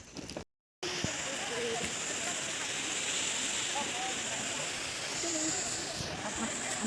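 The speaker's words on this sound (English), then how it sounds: "Can you hear the waterfall sound?" The Lyngksiar waterfall near Shillong, Meghalaya, gives a constant broad hiss of rushing water that fills the clip after a brief dropout near the start, with faint voices underneath.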